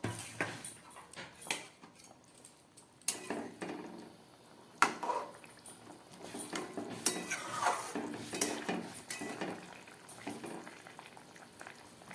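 Fried fish pieces dropped into a bubbling fish curry broth in a pot, with a steady boil, utensil clinks and scraping, and a few splashy bursts, close and without speech.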